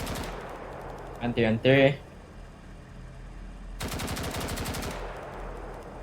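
Long bursts of rapid machine gun fire from the shooter game BRM5, a dense rattling volley later in the stretch, with a short spoken callout just before it.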